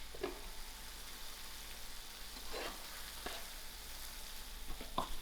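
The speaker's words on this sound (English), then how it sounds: "I'll give this all a mix and let my tomato cook out." Tomatoes cook in a pan at a soft, steady sizzle, broken by a few brief stirring scrapes, all fairly quiet and close with no talking.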